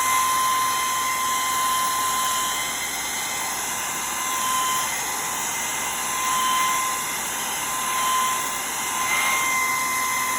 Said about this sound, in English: I'm just gonna give it a quick dry with my blow dryer